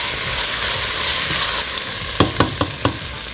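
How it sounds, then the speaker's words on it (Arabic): Tomato sauce fries with mixed vegetables for minestrone, a loud steady sizzle filling the first half, then four sharp spoon knocks against the pot at a quick, even pace. "وبعدين هنزل الصلصه كمان تاخد تحميره مع الخضار"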